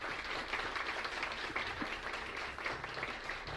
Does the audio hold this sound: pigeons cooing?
no